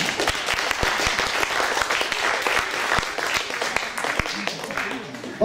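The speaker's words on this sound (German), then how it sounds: "Applaus bitte." Audience applause at a youth hackathon event in Switzerland, a steady dense burst of clapping from a crowd, loud and close throughout.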